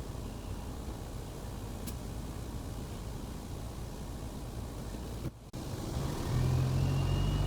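A grain truck pulls forward at a farm grain elevator after unloading at the hopper. Its engine rumbles steadily under broad noise and grows a little louder near the end.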